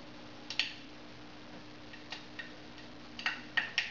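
Seeds popping as they heat in a pot for a spiced cabbage salad, a handful of sharp, small cracks, one near the start and then a quickening cluster of pops toward the end over a low hum.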